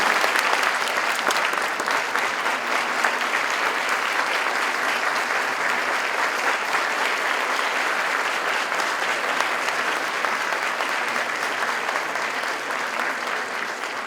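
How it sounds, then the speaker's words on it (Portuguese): Sustained audience applause fills a lecture hall at the close of a session at the Instituto dos Advogados do Paraná, a dense, steady wash of clapping at even loudness throughout, with no voices over it. "A gente vai encerrar a sessão com os aplausos do nosso convidado."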